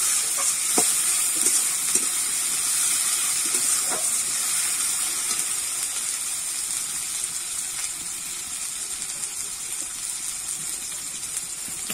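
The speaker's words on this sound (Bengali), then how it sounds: "একটু ভাজা ভাজা হতে দেবো।" Chopped tomatoes fry in a pan while being stirred, a steady, close hiss of sizzling oil running throughout. Occasional faint knocks and scrapes of stirring are heard, and nobody speaks.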